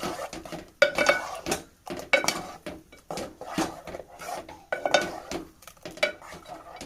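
Utensil scraping and clinking against a pot of cucumber cooked with buttermilk in a steady, repeated stirring rhythm, close up and moderately loud, with no voices.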